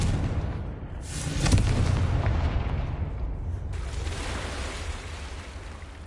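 A Confringo fire spell explosion in the PS5 game Hogwarts Legacy erupts as a deep, rumbling boom that swells around the start and then rolls on as a long, loud low roar.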